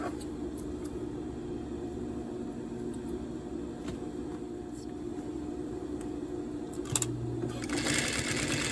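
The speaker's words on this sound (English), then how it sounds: "I'm now at my machine, stitching all my pieces together" A home sewing machine stitches fabric pieces together for a throw pillow flange, running as a steady close mechanical hum with rapid needle rhythm throughout, alone, with a brief shift near the end.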